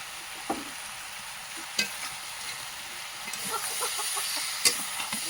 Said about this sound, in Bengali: দেশি মাংস তো কষাই করতে একটু দেরি হয়